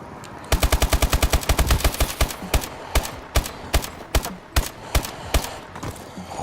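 Video game gunfire: rapid bursts of sharp automatic shots that slow into single spaced shots, loud and close with no talking over them.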